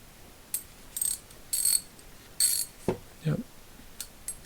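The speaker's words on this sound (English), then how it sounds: "then you test it out to see if it's ratcheting" A Craftsman Tri-Prop roundhead ratchet, freshly reassembled, clicks in several quick bursts of sharp pawl ratcheting close up, broken by a couple of duller knocks from handling, with no talking.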